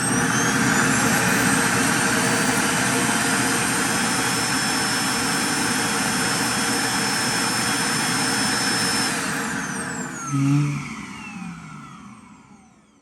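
An iRobot Roomba i3+ robot vacuum self-empties into its base with a loud, steady high-pitched suction roar that winds down near the end, followed by a brief mechanical clunk and fading whine.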